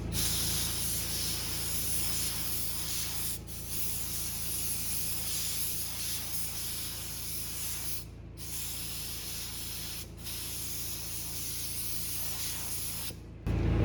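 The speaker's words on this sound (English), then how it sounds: "then spray it on whatever you're trying to do" Low-pressure aerosol spray paint can coating a car's headlight area, a steady close hiss that runs continuously with a few brief pauses between bursts, no talking over it.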